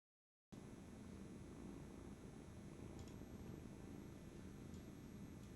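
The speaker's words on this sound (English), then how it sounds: "Oh, she's purring really loud." A cat purrs loudly and steadily close by, a continuous low rumble with no talking over it.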